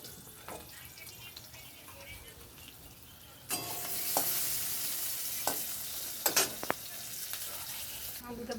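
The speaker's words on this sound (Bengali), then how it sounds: "আলুটা দেবো, ভেজে নেব।" Potatoes fry in oil left over from frying fish, a quiet sizzle at first that swells into a louder, steady hiss with a few scraping stirs near the end.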